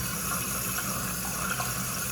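A toilet tank refills after a replaced toilet is installed, with a steady rushing of water at a moderate level and no voices.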